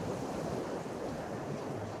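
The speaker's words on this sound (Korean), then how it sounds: "생각보다 파도가 꽤 센 해수욕장 같아요" Strong sea waves roll onto a cold winter beach where a paddleboarder is out, a continuous broadband wash of surf mixed with wind noise, steady and fairly loud without speech.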